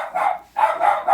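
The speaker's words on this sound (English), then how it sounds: "Ignore my dog's barking." A pet dog barks twice close by, with two short loud barks separated by a brief pause.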